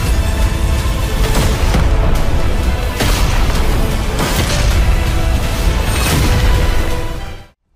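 A huge explosion from the animated series Battle Through the Heavens, a sustained loud roaring blast with repeated booming surges running for several seconds before cutting off.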